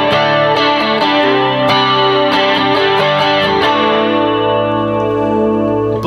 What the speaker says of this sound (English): It sounds very, very close to what the amp does when you're using that particular distortion.